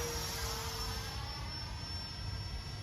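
A Freewing F-35 Lightning II V3 70mm EDF RC jet flies overhead, its steady whooshing ducted-fan whine faint and distant throughout.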